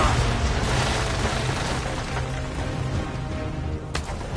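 Naval cannon fire from sailing warships in Assassin's Creed 3, a steady rumble of low booms and distant blasts across a sea battle, with one sharper report near the end.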